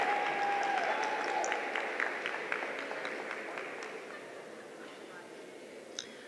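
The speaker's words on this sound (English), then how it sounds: "let's give her a round of applause as well." Applause from the audience at a barristers' ball, moderate clapping that starts full and slowly thins out, heard at a middle distance with some room noise.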